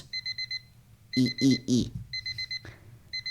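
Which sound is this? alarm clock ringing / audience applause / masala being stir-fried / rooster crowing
alarm clock ringing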